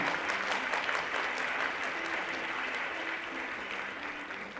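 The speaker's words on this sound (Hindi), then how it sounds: "जोरदार तालियां" Applause from a gathered audience marks the launch of a tablet distribution for primary schools in Jharkhand, a steady, full wash of many hands clapping, moderately distant and fading slightly toward the end.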